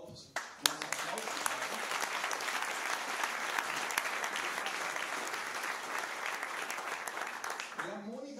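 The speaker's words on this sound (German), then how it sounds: "Applaus." A crowd at a session-planning meeting claps steadily for several seconds, a dense, even patter of many hands with a voice briefly audible at the start and end.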